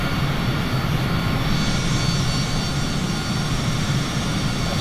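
A Bombardier 8000 aircraft engine heard from the cockpit in flight: a loud, steady, unbroken drone with a broad roar that holds constant the whole time.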